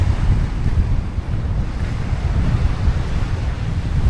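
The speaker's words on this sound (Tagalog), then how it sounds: "Malakas ang hanging amihan." Strong northeast monsoon wind sweeps a beach at a Quezon Province campsite, a loud continuous rumbling gust buffeting the microphone with surf roar blended underneath.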